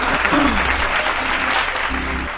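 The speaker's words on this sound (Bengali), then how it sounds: "দেবলীনার জন্য জোরে হাততালি" A studio audience on a Bengali family game show claps steadily and loudly for a contestant, a dense sustained burst of applause that fades slightly at the end.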